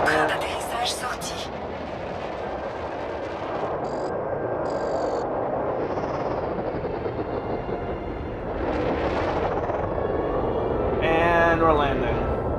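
A spaceship landing in the video game Elite Dangerous: a sustained roaring rumble of thrusters that swells near the end, with short synthetic cockpit tones and voice announcements over it.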